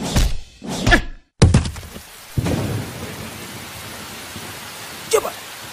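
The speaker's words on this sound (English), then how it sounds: "My man, I told you there's a storm coming." Thunderstorm with heavy rain and thunder, loud sudden crashes and rumbles in the first seconds, then a steady hiss of rain on surfaces and one more brief crack near the end.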